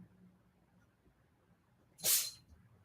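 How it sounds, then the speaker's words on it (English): A single short, sharp sneeze from a pet indoors, a quick airy burst near the end after quiet background hush. "He's got the sneezes."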